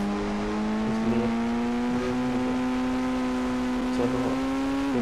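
Engine of a truck driven in the mobile game Indian Bike Driving 3D, a steady droning tone with faint pitch rises as it accelerates, loud and continuous with no voices.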